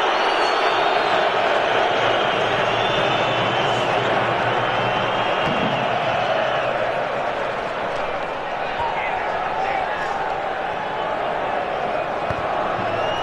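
Football stadium crowd at an England vs Croatia Euro 2008 qualifier, a dense restless roar and murmur filling the background under continuous commentary.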